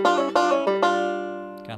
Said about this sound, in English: He pulls off twice on these double stops